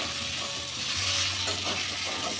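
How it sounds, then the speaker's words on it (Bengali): Grated paneer sizzles in a hot pan as it is stirred and fried, a dense, close hiss with soft scraping of the spoon against the pan and no talk. "খুব ভালো করে ভাজা ভাজা করে নিয়েছি"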